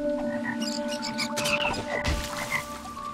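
A frog in the video game Toki Tori 2+ croaks in a few repeated, throaty calls, loud and close over a steady game background with faint chirps.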